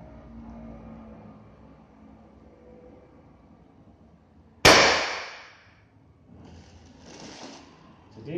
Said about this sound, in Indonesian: Kita coba shoot menggunakan peluru kiloan 13 grain tanpa merek ya.